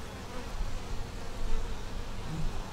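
Honey bees at an opened hive, a soft continuous buzzing drone from many bees, fairly faint and steady with slight swells.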